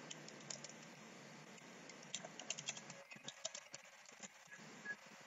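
Keys tapped on a computer keyboard while entering a search during a WordPress website tutorial, a quiet run of light clicks that turns sparse and irregular partway through, with low background noise underneath.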